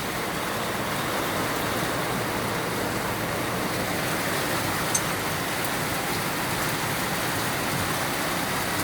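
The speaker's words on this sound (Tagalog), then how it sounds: "Napakalakas ng ulan ngayong gabi." Heavy rain pours steadily at night, a dense, even roar of water falling on a roof and the ground all around, loud and unbroken from start to finish, with no voices over it.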